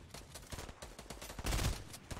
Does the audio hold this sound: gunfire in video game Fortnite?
yes